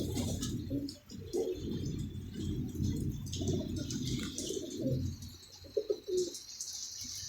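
Pigeons coo steadily in a loft, with low throaty calls overlapping continuously alongside faint chirps, close and fairly loud, with no talking.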